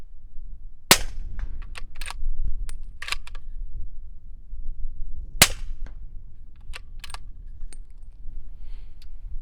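Two suppressed 300 Blackout rifle shots with factory ammunition through a small 1.5-inch-diameter suppressor, each a sharp, loud crack a few seconds apart, followed by lighter clicks and metallic handling sounds.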